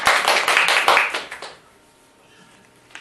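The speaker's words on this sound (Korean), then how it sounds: "박수로 시작할까요?" Audience applause opening an author's lecture, a short burst of many hands clapping that fades out after about a second and a half, leaving near silence.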